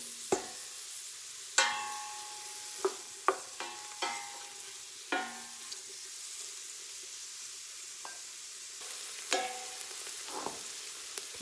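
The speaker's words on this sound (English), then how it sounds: "I'm going to put the onions and garlic in. And let them saute for about 2 minutes." Onions and garlic sautéing in a pan, a quiet sizzle broken by sharp clicks and scrapes of a utensil stirring at irregular intervals, close and without talk.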